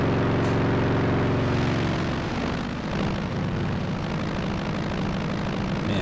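Aircraft engine in a flight video game, a steady, loud droning hum with layered harmonic tones that shift slightly in pitch partway through as the throttle changes, with no voices.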